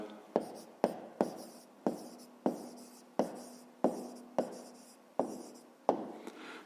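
A pen writes an answer to a fifth-grade maths exercise on paper in steady, quiet strokes, about a dozen short scratches in an even rhythm, close and alone.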